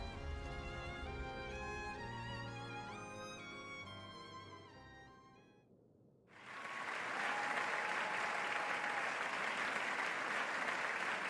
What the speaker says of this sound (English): even Van's standing up in applause